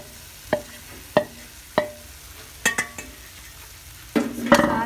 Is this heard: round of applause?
no